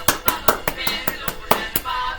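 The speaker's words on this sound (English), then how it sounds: "Round of applause." Applause for a member's idea on straightening the bed of a 48, a steady run of sharp claps, close and loud, about ten beats in just over two seconds.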